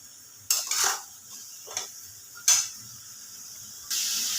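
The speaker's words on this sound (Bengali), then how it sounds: "এবার আর একটু ভালোভাবে কিন্তু মাংসটাকে আমাদের কষিয়ে নিতে হবে" A spatula scrapes and knocks against a pan while chicken is sautéed, making three or four sharp metallic strokes spread over a few seconds, followed by a steady sizzle.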